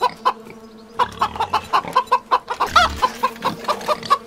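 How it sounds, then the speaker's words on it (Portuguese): Chickens in the 7 Days to Die video game cluck in quick, repeated bursts close by, loud and continuous, with a sharper squawk partway through. "Será que a galinha tá mais barata, tia?"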